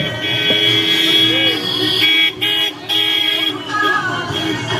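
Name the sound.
vehicle approaching through a campaign crowd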